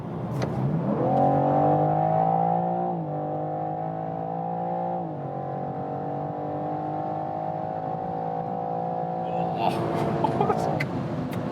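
BMW M or Mercedes-AMG sports car (M340i, M3, C63 class) accelerating hard on a road, engine note rising in strong harmonic sweeps, loud and close from inside, with a gear change midway and a short exclamation near the end.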